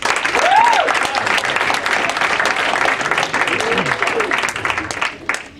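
Comedy club audience at the DC Improv applauding on cue, dense steady clapping from a crowd with voices mixed in, loud and sustained for about five seconds before tapering.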